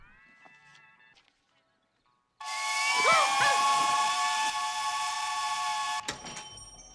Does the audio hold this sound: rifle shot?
no